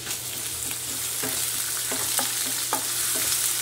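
Ginger-garlic paste, chili paste and curry leaves fry in a pan for a bread patty filling, a continuous hissing sizzle punctuated by several sharp spatter pops and stirring knocks, close up with no voices.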